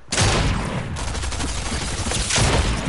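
Submachine gun fire in Fortnite, a dense sustained burst of rapid shots rattling loudly almost the whole time, with a brief dip in the middle before firing resumes.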